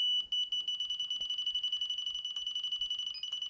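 A Delkim bite alarm set to high sensitivity gives off a steady, piercing electronic tone that warbles in rapid repeated pulses, loud and close, with no one talking.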